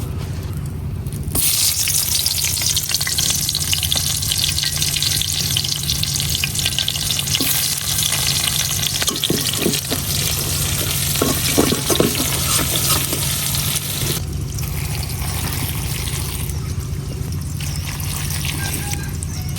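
Onions sizzle loudly and steadily in oil left over from frying pabda fish, a dense continuous fry with occasional stirring scrapes and clinks throughout.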